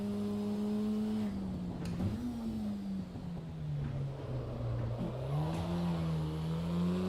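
A Cosworth race car engine in Assetto Corsa Evo holds a steady drone that rises and falls gently in pitch as the car runs, with a faint turbocharger whine sitting quietly in the background.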